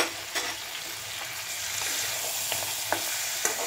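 Lentil dumplings (bori) dropped into vegetables simmering in their own water in a pot, a steady close bubbling sizzle with a few soft clinks and splashes.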